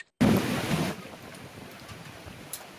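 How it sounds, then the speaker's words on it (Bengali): Sea waves break on the shore at Kuakata on the Bay of Bengal, where the sea is rough under cloud. A loud rushing surge comes first, then fades to a steady, softer wash. "সমুদ্রের তীরে আছড়ে পড়ছে একের পর এক ছোট বড় ঢেউ"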